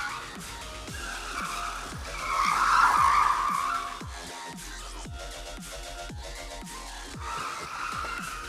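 Cars tearing around a gymkhana course with repeated tire squeals and skids, engines revving between runs. The sharp bursts come at a steady rhythm and swell louder in the middle, with no voices.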